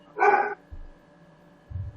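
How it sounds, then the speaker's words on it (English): A single dog bark rings out in a Dungeons & Dragons tabletop scene, one short sharp bark followed by a couple of low soft thumps against a quiet background hum. "A dog. In the distance."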